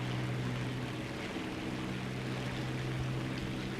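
A propeller plane's engine drones steadily in the War Thunder video game, a constant low hum with a broad airy roar over it and no breaks.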